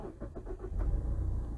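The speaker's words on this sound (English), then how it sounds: "let's turn on the engine" A 2019 Mazda CX-5 engine comes to life after a push-button start, settling into a steady low rumble that fills the cabin, with no voices.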